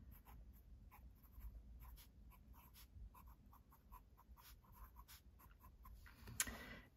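A fine fountain pen nib scratches across paper in soft, close strokes with short pauses between words, ending in one sharper scrape. The sound is quiet and plays alone, with no speech.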